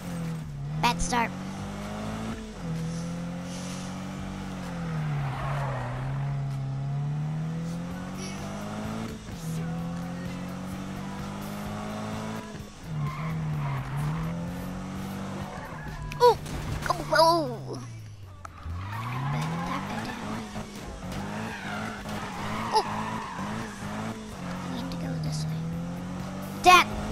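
A race car in Need for Speed drones and revs through gear changes, tires squealing into a skid before a sudden crashing impact. A player talks over the engine noise throughout.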